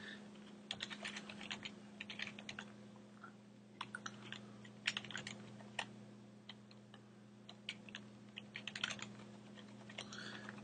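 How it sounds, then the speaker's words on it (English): Quiet bursts of computer keyboard typing as a username is entered, irregular clusters of light clicks over a steady low electrical hum, no speech. "I'm going to type in a username here."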